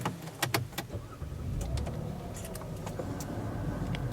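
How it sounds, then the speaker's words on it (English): A 2013 Buick LaCrosse pulls away for a drive: a few sharp clicks at first, then a steady low engine and road hum that continues unbroken, with no one talking. "So now let's go for a drive and see how it does on the road."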